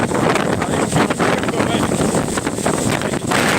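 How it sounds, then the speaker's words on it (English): Strong wind roars and buffets against the microphone in constant heavy gusts, with faint voices and motion noise buried beneath. "Very, very windy"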